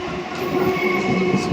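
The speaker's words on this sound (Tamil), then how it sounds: "நம்ம இறங்குற ட்ரெயின் போகுது" At night, a train rolls out of a Chennai railway station with a steady rumbling and rattling of wagons close by, and a single brief word is spoken.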